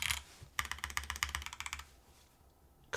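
Mechanical keyboard themed after the Game Boy Advance being typed on: a quick burst of crisp, close keystrokes in an irregular rhythm, then a quiet pause before another key press right at the end.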